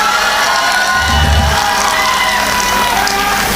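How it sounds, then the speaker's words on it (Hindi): A comedy show audience in Asansol cheers and applauds loudly, a dense, sustained crowd roar with whoops that fills the whole stretch. "एक बार आप अमित कुमार के लिए जोरदार ताली बजाएं।"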